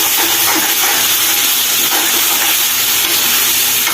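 Masala spices roasting in a pan for chole, a loud continuous sizzle and hiss heard up close, steady throughout with no talking.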